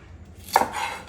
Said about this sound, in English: Fennel, cut the fennel in half.